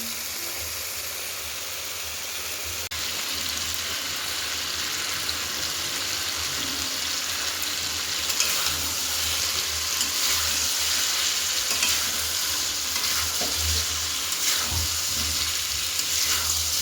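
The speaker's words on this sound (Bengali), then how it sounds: "আলুটা দিয়ে দিয়েছি কারণ আলুটা গলে যাবে কিন্তু তাও একটু কষিয়ে নিলে আমার বেশি ভালো লাগে খেতে" Potatoes being fried and stirred in a pan for chicken pulao, giving a continuous close sizzle with occasional scraping and clinking of the stirring utensil and no talking.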